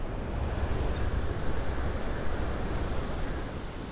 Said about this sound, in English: let's take a look at the surf.